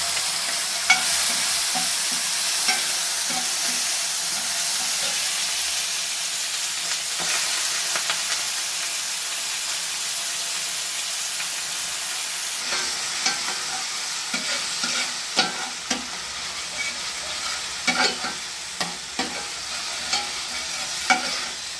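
Tomato rasam base sautéing in a pan with turmeric and sambar powder, a steady loud sizzle of frying with frequent scraping stirs throughout, no talking.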